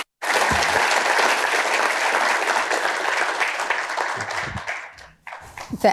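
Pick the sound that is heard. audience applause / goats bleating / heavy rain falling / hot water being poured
audience applause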